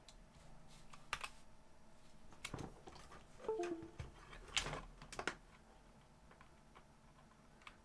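Keys clatter on an NK87 mechanical keyboard with unlubed switches and stock stabilizers, in irregular bursts of close, crisp clicks and clacks with a few louder bottom-outs, quiet overall and without talk.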